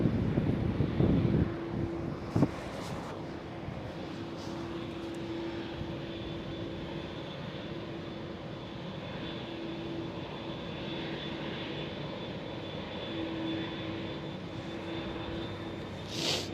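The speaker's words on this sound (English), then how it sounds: "one Dreamliner pushed out and the next one is already arriving" A Boeing 787 Dreamliner at Amsterdam Schiphol Airport produces a steady, moderately distant engine drone with a sustained whine, continuing evenly for a long stretch with no speech.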